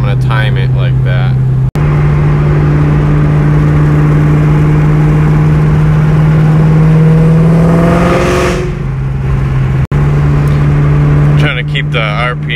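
A car engine revs during a test drive, with the pitch climbing steadily to a high, loud peak, dropping away, then rising again near the end, with brief talk over the engine.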